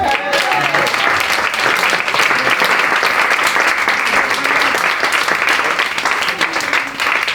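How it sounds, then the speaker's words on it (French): An audience at an evening catch wrestling event applauds loudly and steadily, the dense clapping continuing evenly for several seconds with no speech over it. "On peut les applaudir."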